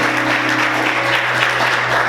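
Loud, dense applause from a church congregation, a steady wash of clapping with a low hum underneath and no voices.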